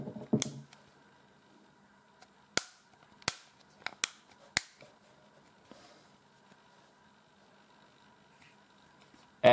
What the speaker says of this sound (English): Then you take the back cover and you click on the back cover again.